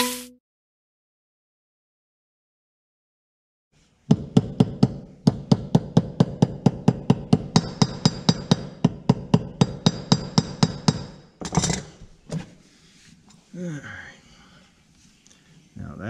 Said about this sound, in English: So I'm gonna get my hammer and tap it in.